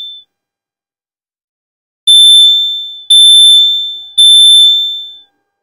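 A CrossFit box timer gives three loud, piercing electronic beeps about one second apart, each a bright sustained tone that decays, after a brief faint beep and a silent gap.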